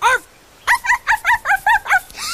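A battery-powered barking shark toy gives a short yip, then a rapid run of about seven bright, electronic dog-like barks, close and loud, with no talk.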